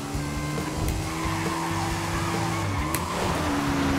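Old Honda Supra X drag-style motorcycle engine running steadily while cornering, a close, continuous droning hum with shifting harmonic tones throughout, no talking.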